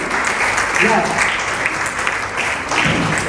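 An audience claps for achievers on stage at a wellness centre leadership and awards event, with steady, dense applause running throughout and a voice talking over it.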